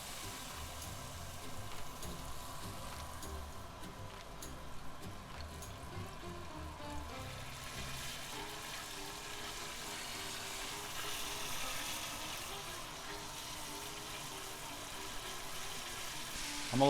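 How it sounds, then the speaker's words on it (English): Crab fat fried chicken pieces fry a second time in hot grease, a steady, soft bubbling sizzle that holds at an even level throughout with no talking over it. "I'm gonna let these fry up again."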